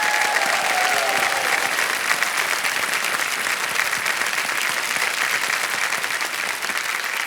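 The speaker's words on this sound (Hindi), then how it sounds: "तालियां बजती रहे इनके लिए।" Studio audience applause on the set of the Kaun Banega Crorepati quiz show, a dense, steady wash of clapping that holds at an even, loud level for the whole stretch with no voices over it.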